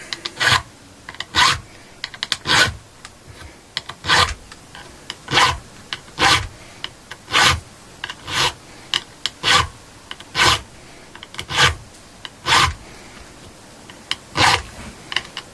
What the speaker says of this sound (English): just manually reshaping these fret edges